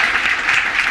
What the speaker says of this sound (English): Go ahead, clap for Chelsea.